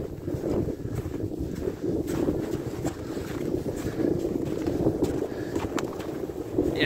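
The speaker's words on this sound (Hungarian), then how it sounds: "Nagyon fúj a szél itt fent." Strong wind blows on a snowy mountain at -41 degrees felt cold in the Făgăraș Mountains, a loud continuous gusty roar buffeting the microphone throughout, with no talk.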